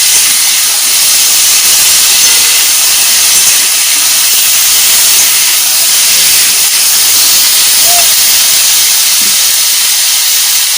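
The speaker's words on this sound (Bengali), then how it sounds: "আলু আর টমেটো একবারে ভাজবো।" Potatoes and tomato frying together in oil in a home kitchen give a steady, even hiss and sizzle that holds for the whole stretch, close and fairly loud, with no talking.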